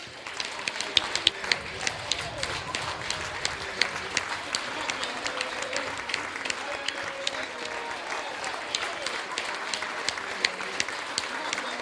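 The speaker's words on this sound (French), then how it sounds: "une bonne main d'applaudissements aux 2 équipes" Audience at a winter festival award ceremony in Sainte-Julienne applauds, a long stretch of crisp, scattered clapping from a modest crowd with individual sharp claps standing out, moderately distant, with some murmuring voices underneath.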